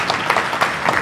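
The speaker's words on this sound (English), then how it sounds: "Big round of applause." A brief burst of audience clapping after a pitch at a startup competition during a real estate expo, with a few distinct louder claps standing out from the patter.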